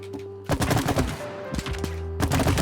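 Rapid gunfire from the co-op video game It Takes Two rattles loudly in quick repeated bursts over a steady game music drone.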